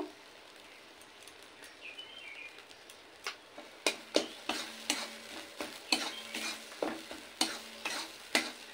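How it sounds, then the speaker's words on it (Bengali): A spatula stirs and scrapes green bean paste frying in a wok, with repeated loud scraping strokes at a steady rhythm over a soft sizzle, after a quieter start with faint bird chirps in the background. "সেই বাটাটা এবার ভালো করে নেড়ে নিয়ে শুকনো শুকনো করে যতক্ষণ না কড়াই থেকে ছেড়ে উঠবে ততক্ষণ একটু নেড়ে ভাজা করে নিতে হবে"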